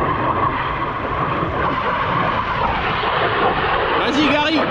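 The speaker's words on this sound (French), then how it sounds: "Avion." An airplane passes over farmland, a steady broad roar that holds evenly throughout at moderate distance, with a brief voice-like sound near the end.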